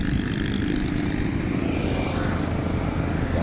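A loud, steady engine roar of a brand-new motorcycle passing close by on a road in Naic, Cavite, droning without a break and covering everything else.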